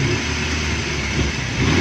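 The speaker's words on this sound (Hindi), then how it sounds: "अब दोस्तों गाड़ी को स्टार्ट करेंगे" Toyota Hiace van engine running on petrol after a CNG conversion, a loud steady close-up hum with no break.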